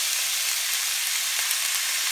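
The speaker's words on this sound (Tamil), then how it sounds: "எண்ணெய் காஞ்சதும் ஒரு பெரிய சைஸ் வெங்காயம், பெரிய வெங்காயம் பொடியா நறுக்கனது அதை இதல ஆட் பண்ணலாம்." Steady, close sizzling of chopped onions frying in hot oil, a continuous crackling hiss with a few faint stirring clicks.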